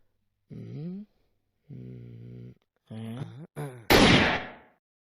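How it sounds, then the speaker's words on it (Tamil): A gun firing once in a staged comedy scene, a single loud sharp burst near the end that decays quickly, following several short voiced snoring-like or vocal sounds. "கரெக்ட் பண்ண சொன்னா ஃபயர் பண்ணிட்டேடா"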